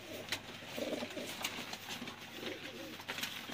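Female pigeons of the Chuhay breed coo softly in repeated low, throaty bursts, steady and close over a busy background with sharp clicks.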